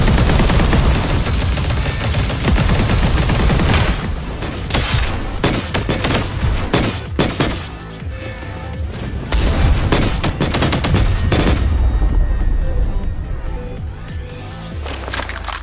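Dense, continuous gunfire bursts from a Punishing Gray Raven battle scene, rapid volleys layered with booms and impacts at high volume through most of the stretch, with a brief thinner passage near the end.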